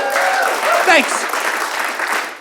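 A comedy club audience gives a loud, sustained round of applause at a stand-up show, dense clapping that fades slightly before a short spoken thanks cuts in near the end.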